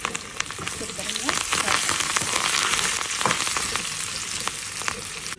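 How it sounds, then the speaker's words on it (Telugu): Spices and asafoetida tempering in hot ghee for moong dal, a loud continuous sizzle and crackle close by with small popping bursts throughout, no talk. "ఇప్పుడు పోపులన్నీ వేస్తున్నాను. అందులో ఇంగువ కూడా వేసాను."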